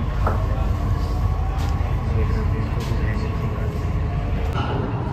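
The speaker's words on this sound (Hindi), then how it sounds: "मेरी मेट्रो आ गई" A Delhi Metro train bound for Chhatarpur rumbles steadily and loudly throughout, a continuous low roar with no clear breaks.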